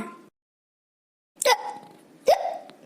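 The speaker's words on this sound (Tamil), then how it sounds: "என்ன இது நமக்கு இம்பிட்டு வேகமாக விக்கல் வருது" A woman hiccups twice, close and sharp, the two gulping hiccups spaced about a second apart after a short pause of silence.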